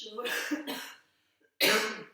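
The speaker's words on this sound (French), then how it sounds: "excusez-moi, je tousse" Someone coughs several times in quick succession, a short pause, then one more harsh cough close to the microphone.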